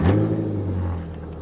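A car engine catches and settles into a steady idle, a short close rumble with a slight rev at the start and no talking.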